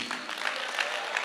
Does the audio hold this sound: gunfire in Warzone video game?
no